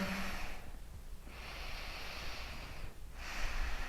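Slow, steady breathing from someone holding a yoga balance pose, with long airy exhales and inhales in an even rhythm. The breaths are close and soft, with no talk.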